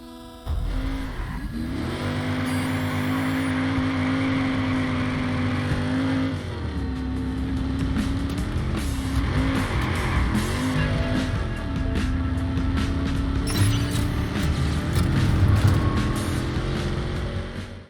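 A classic muscle car roars through a video game drive, its engine holding a steady drone with several gear shifts and rising revs, while tire squeals and skids surface near the end.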